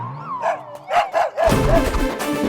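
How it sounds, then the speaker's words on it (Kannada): A dog in a Kannada film scene gives a few quick, sharp barks and yips, close and fairly loud, ending in a burst of louder noise. "ನಾಯಿ."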